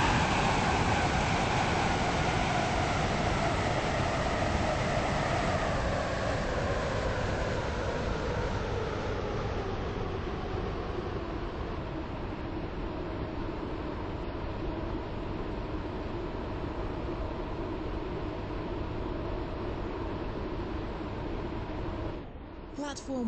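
Train from a video game running into a station, a steady loud rumble with slowly falling drive tones that ease off as it slows, then a brief clunk at the end.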